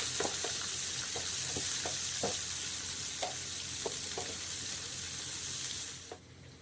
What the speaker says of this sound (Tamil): ஒரு ஆனியன், நல்லா ஃப்ரை ஆகட்டும்.